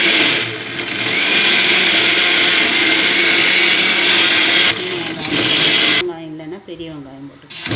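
A mixer grinder pulses small onions in a loud, close, continuous whir lasting several seconds, cutting off briefly and then stopping, after which a person starts talking.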